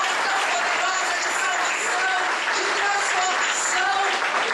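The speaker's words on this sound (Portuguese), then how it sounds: "dê a Ele um forte aplauso nessa manhã" Loud, sustained applause fills a church congregation, a dense unbroken wash of many hands clapping at once for several seconds.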